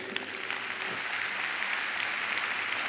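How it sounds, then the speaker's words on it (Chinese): An audience at a leadership training session claps for Li Wei, a dense, even round of applause sustained for a few seconds. "所以我们给立威一个掌声"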